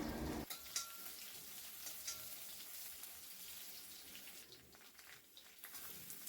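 Mustard seeds and curry leaves frying in hot oil in a kadhai, a faint, steady hiss of sizzling with small crackles and pops throughout, rising after a short quieter opening.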